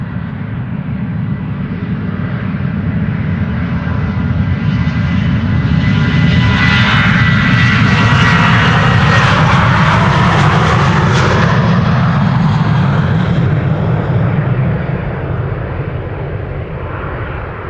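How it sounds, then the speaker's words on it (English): A KLM Boeing 737-800 in the previous standard livery takes off from Schiphol bound for Manchester as flight 1031, its jet roar loud and sustained, building and sweeping past over nearly eighteen seconds. "KLM in the old standard livery, the previous standard livery, 737-800 going to Manchester"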